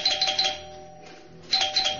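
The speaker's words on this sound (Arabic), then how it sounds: "وبينما كان يتساومان رن جرس الباب" A doorbell chimes twice, a bright ding-dong ringing, pausing for a moment before the second ring, clear and close.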